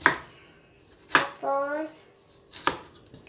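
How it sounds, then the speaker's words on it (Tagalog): A knife slices through fresh ginger in three sharp, separate cuts, each a crisp knock on the board, with a voice talking briefly between the strokes. "ganyan lang po ang pag-slice ng ginger"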